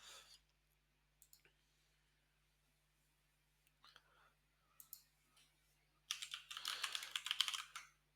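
Soft keyboard typing at a computer while logging into a virtual machine: sparse, quiet key clicks, then a dense, louder burst of rapid keystrokes toward the end, with faint whispery sound in between.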